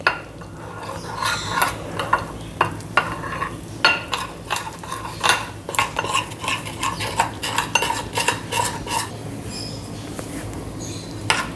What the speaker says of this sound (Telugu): ఉండలు లేకుండా ఒక థిక్ పేస్ట్ లాగా కలుపుకోండి.